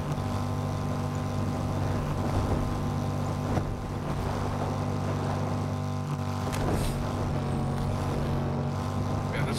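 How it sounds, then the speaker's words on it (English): A loud car engine roars continuously, heard from inside the car as a dense, steady drone with a few sharp knocks and rattles riding on top. "car is loud as hell, man"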